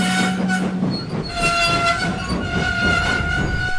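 A train hauling stone rolls into the yards, its steady rumbling clatter of wheels close and loud with a sustained horn-like tone running throughout.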